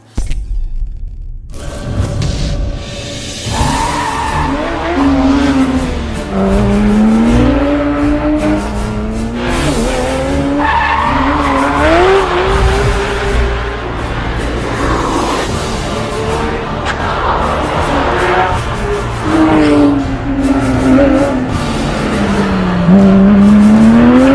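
A 2011 Porsche 911 GT3 RS 4.0, a street-legal track car, driving at speed. The loud engine climbs and falls through repeated revving sweeps with gear changes, close and continuous for the full stretch.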